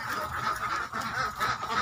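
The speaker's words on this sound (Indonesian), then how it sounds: "Ini adalah bebek petelur Mojosari, kaki hitam, paruh hitam, tubuh langsing seperti botol," Mojosari laying ducks, black-legged, black-billed and slim as a bottle, quack in a steady, overlapping chorus close by, with no talking over them.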